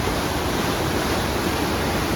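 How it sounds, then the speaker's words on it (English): Tapeats Creek in the Grand Canyon, running high and muddy after three days of rain, gives off a steady, dense rushing roar. The sound is close and continuous, with no other sounds standing out. "This is Tapeats Creek."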